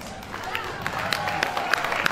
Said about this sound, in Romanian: Vă rog să-l aplaudați pe prietenul meu,